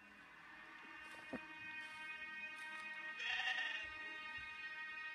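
A goat lets out a single faint bleat midway through a quiet horror-film scene, surrounded by low ambient hum and a brief soft knock.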